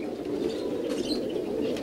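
Highflyer pigeons at a breeding setup, a steady low cooing murmur with soft fluttering and a few brief wing flaps, continuous and fairly close.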